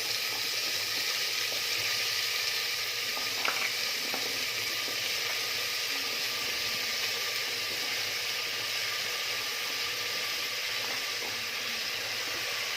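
Cabbage, cauliflower and carrot for pav bhaji, cooking in a pan with a steady, hissing sizzle that stays even throughout, plus a few faint clinks around a third of the way in, with no voices.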